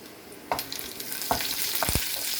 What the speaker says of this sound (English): Be careful, it splatters. The green chili splatter a lot.